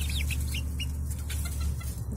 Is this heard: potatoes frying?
no